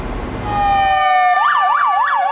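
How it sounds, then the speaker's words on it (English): An ambulance siren in Mexico City starts with a long rising tone, then settles into a repeating wail that cycles up and down, loud and close over faint street noise. "Angel turns on his siren"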